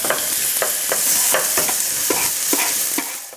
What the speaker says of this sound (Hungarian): Fakanál, és mehet bele a hagyma.